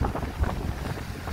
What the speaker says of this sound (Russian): Хоть ветер страшный